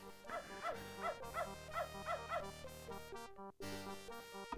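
A dog in the 1994 DOS adventure game Beneath a Steel Sky gives a rhythmic series of short whimpering yelps over steady game music, then a brief drop and the music resumes.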